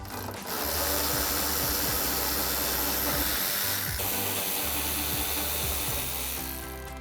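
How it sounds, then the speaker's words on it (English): An 8mm socket, likely on a powered driver, removing fender flare bolts on a RAM 1500 pickup, a loud close continuous whirring and rattling that runs steadily for several seconds before tapering off. "These are 8mm, so I'm gonna be using an 8mm socket. So now we can remove these 2 bolts."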